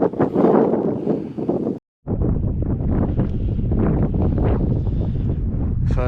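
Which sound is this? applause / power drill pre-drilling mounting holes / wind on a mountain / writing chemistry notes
wind on a mountain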